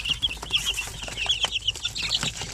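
Young shamo aseel chicks peeping, a cluster of high, thin chirps repeating in quick irregular bursts close by, with some shuffling and faint clucking underneath and no one speaking.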